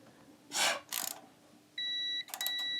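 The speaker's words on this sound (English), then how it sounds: "place the buzzer right here of my multimeter and rotate until we can hear" Two short bursts of scraping contact are followed by a steady high multimeter continuity beep that cuts off briefly and resumes, clear and close in a quiet room, while tuning up a 1969 BMW R69 S motorcycle engine.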